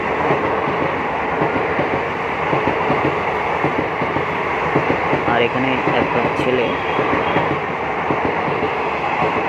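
A train rumbles and clatters steadily along the rails nearby at Baneshwar station, with people talking over the continuous roar.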